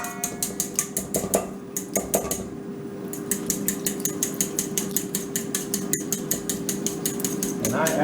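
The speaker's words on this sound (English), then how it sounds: "So, 2 eggs. Look at that, no shells. Start whisking these up." A fork whisks two eggs in a bowl with rapid, regular clicking strokes against the side, pausing briefly twice before continuing steadily; close and fairly loud with a faint background hum.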